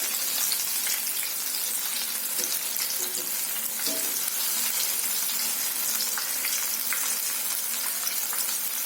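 Battered fish bajji deep-frying in bubbling oil, giving a dense, continuous sizzle and crackle at moderate volume with no voices.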